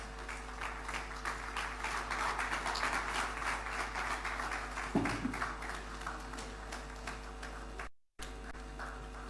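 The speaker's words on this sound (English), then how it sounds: "Let's give him a round of applause." Audience applause at a Ghanaian broadcasting and media forum for former President John Agyekum Kufuor, a steady roomful of clapping that fills the hall for most of the stretch before cutting off abruptly near the end.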